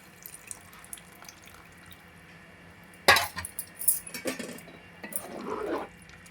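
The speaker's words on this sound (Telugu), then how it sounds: "నేను ముందుగానే నానబెట్టుకున్న చింతపండు రసాన్ని ఇందులో వేసేసుకుంటున్నాను" Soaked tamarind juice poured into a simmering curry of village-style pond fish and brinjal, a short close splash and trickle after quiet, then a few wet drips and a brief stir, with no voices.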